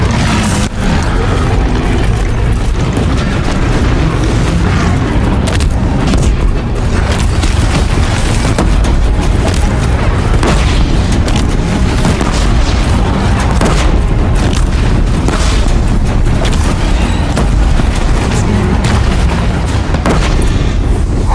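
Bombs exploding in Horizon Zero Dawn combat, a continuous loud barrage of deep booms and blasts with dense battle noise throughout.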